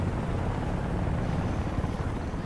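A helicopter in the video game Homefront drones with a steady, loud rotor rumble, continuous and unbroken throughout.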